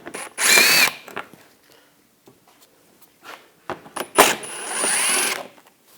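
A power drill fitted with a 7mm socket whirs in two short bursts as it backs screws out of a car's underbody panel, with quiet clicks and handling noises in between.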